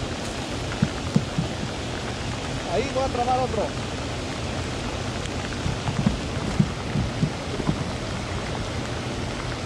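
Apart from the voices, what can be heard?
heavy rain falling, thunder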